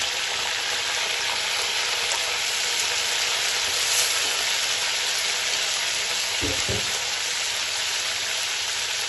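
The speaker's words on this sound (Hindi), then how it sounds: "ये देखिए, अब इसमें गोश्त डाल देते हैं।" Meat added to a hot pot for chicken biryani sizzles and fries loudly and steadily throughout, with a brief stirring clatter near the end.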